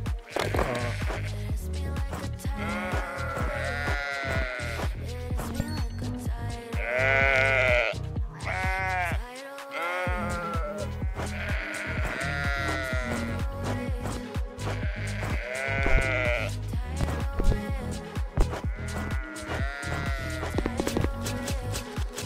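Sheep in the video game House Builder bleat repeatedly in a steady series of loud, wavering calls over music-like background, with brief gaps between the bleats.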